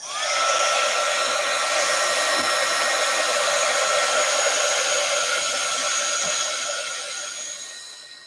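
A hair dryer blows steadily and loudly close by, drying wet marker artwork, a constant whooshing roar for about eight seconds that tapers slightly at the end, with no talk over it.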